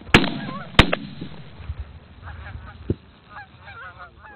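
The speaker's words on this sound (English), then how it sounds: "Geese coming, Ron." Geese honk repeatedly in flight during a waterfowl hunt, a chorus of calls rising and falling at mid distance, opened by two sharp, loud shotgun blasts.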